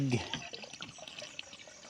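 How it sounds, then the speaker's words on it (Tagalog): Water runs and splashes into a 16-liter sprayer tank being filled for herbicide in a corn field, a close, uneven liquid gurgle with a brief voice at the start. "Tapos lagyan natin siya ngayon ng tubig."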